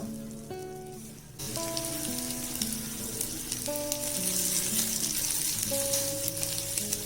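Egg-dipped chocolate French toast slices laid into melted butter set off a sudden loud, sustained sizzle that fills the pan and keeps crackling steadily up close, with faint clinks over it.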